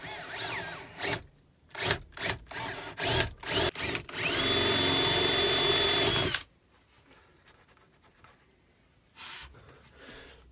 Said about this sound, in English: Right, so now I've drilled my hole